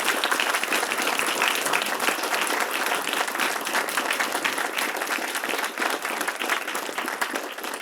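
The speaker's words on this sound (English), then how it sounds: "Professor Murphy, I wanted another round of applause for her" A large audience at a law professorship investiture applauds steadily and loudly, dense clapping sustained throughout without pause.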